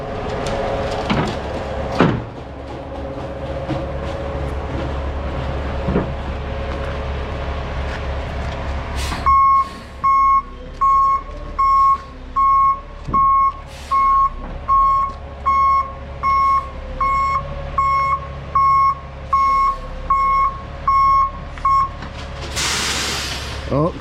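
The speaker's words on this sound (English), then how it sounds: "Back the truck on here." Truck backing onto a site for a line-pump job, its engine rumbling while an evenly spaced reversing beeper sounds over and over for about fifteen seconds, loud and steady.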